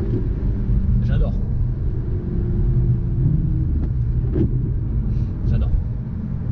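A 120-horsepower Mazda car driving along, its engine and road noise forming a steady low rumble inside the cabin, with a person talking over it intermittently.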